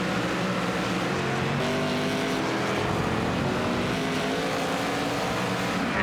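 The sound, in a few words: race cars racing down the straightaway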